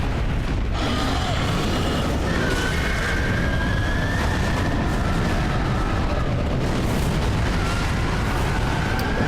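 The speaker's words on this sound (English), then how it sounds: "Let's not be in the explosion." Explosions and combat noise fill a Dark Souls 3 fight against demons, with continuous loud rumbling blasts and sweeping high tones layered densely for the whole stretch.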